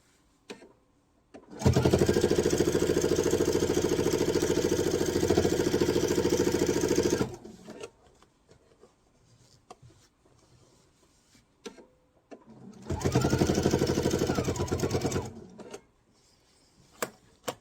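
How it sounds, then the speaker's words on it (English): A sewing machine stitches quilt binding in two sustained runs, one long and one shorter, loud and close with a fast even whir, separated by a quiet pause with small handling noises. "we're going to sew this until we're almost about an inch from that unusual corner"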